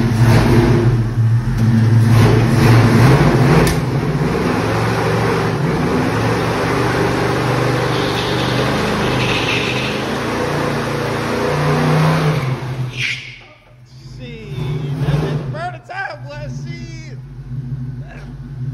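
Engine of an 89 box Chevy revving in a body shop, a loud sustained rumble for about twelve seconds that cuts off abruptly, then quieter idle sounds with people talking over it.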